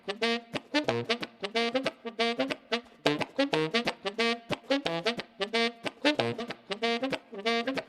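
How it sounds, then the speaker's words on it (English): Slap-tongued bass notes on a saxophone punch out the roots of chords, short percussive low tones in a bouncing, steady rhythm, loud and close with no voice over them. "That's me jumping down and doing this thing called slap tonguing these roots of the chords."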